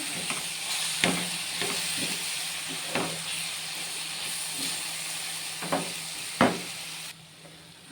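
A masala mixture with black pepper, for squid, fries in a pan while being stirred: a continuous hissing sizzle punctuated by periodic scraping knocks of the spoon against the pan.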